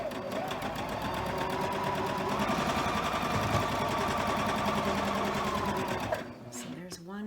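A sewing machine stitching a scrap quilt block runs in a fast, steady whir close by for about six seconds, then stops, and a voice speaks over it and afterwards.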